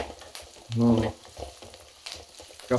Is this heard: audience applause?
no